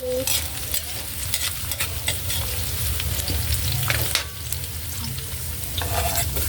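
Onion and ginger sautéing in a pan: a close, steady sizzle of frying with bursts of spatula stirring and scraping throughout.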